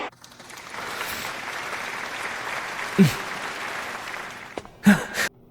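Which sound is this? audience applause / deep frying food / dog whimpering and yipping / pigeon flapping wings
audience applause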